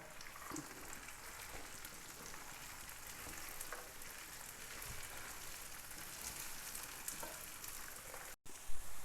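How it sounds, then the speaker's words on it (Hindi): Green peas fry in a pan with a steady, dense sizzle that stays even and fairly faint throughout, like light rain on a surface. "पाँच मिनट इन्हें मैंने फ्राई किया है"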